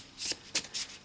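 A Modern Spellcasters Tarot deck with a matte finish is shuffled up close, giving three short, crisp papery swishes in quick succession.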